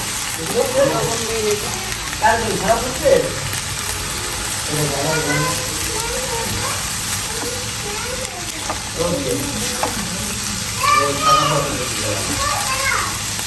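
Bitter gourd (karela bhaji) frying in a home kitchen, a steady loud sizzle running throughout under someone speaking and children's voices.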